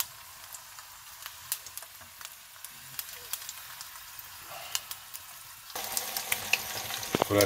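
A whole veal kidney sears in a hot pan with a steady sizzle and scattered sharp crackles, growing louder and denser toward the end as it is turned.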